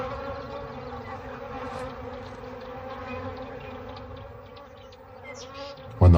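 A swarm of bees buzzing around lions in the wild, a steady droning hum that stays close and continuous, ending with a brief loud rustle.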